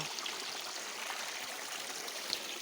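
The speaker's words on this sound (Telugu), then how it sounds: "ఇది చాలా చక్కగా వాటర్ పడుతుంది ఇక్కడ" Water falling and running along a stream, a steady soft rushing wash heard from close by with no voices.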